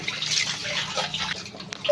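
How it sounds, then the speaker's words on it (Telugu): Water splashes and trickles into a pan of fish curry with turmeric, a short wet pour with gurgling drips, fairly close and moderately loud. "కొంచెం వాటర్ వేసుకొని బాగా ఉడకనివ్వాలి"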